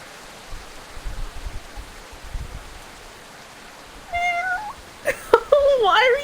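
A person imitates a cat, giving a few drawn-out, rising and falling meows near the mic, closing with a quick cluster of whiny mews over a faint noisy background.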